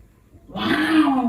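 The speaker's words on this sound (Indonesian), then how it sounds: "Ada suara harimau yang terdengar." A tiger roar rises out of near silence, deep and rasping, swelling over about a second in an eerie haunted forest.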